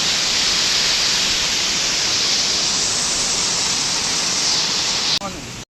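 Kadali Dahara waterfall at Karanjia pours with a loud, constant broadband rush of falling water that stays unbroken until a sharp click near the end cuts it off.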